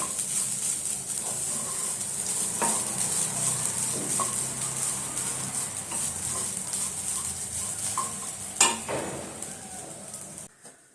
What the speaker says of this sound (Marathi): असं आपल्याला छान व्यवस्थित असं भाजून घ्यायचं आहे.